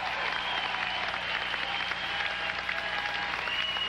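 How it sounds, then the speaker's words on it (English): Arena audience applauding after a rally in a 1997 US Open men's racquetball final, a steady dense wash of clapping that holds at even strength throughout, moderately distant and without talk over it. "he's the guy getting the applause"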